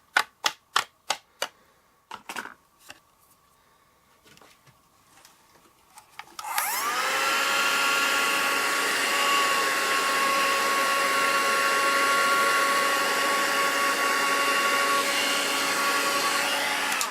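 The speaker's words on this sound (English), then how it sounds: "Now remember, when you're embossing, don't hold the heat over the embossing powder too long." Several sharp taps and clicks come first, then a heat tool for melting embossing powder switches on and runs as a loud, steady blowing whine with a faint high tone for the remaining ten seconds.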